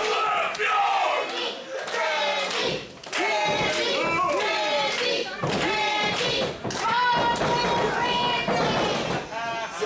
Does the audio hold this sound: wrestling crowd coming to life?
yes